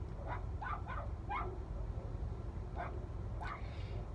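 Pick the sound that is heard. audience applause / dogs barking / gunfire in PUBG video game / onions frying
dogs barking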